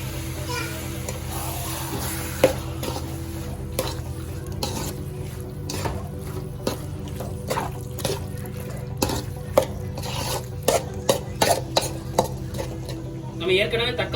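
Tomato masala with turmeric, ginger-garlic paste and salt sautéing in a pan for chicken fry, a steady low sizzle under repeated scraping stirs and clinks of a spoon against the metal pan, with a faint voice in the background.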